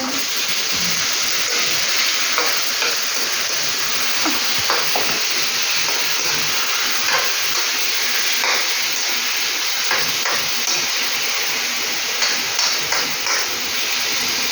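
Chicken pieces sizzling and frying in a pot for tinola, a steady loud hiss with scattered clinks and stirring taps throughout.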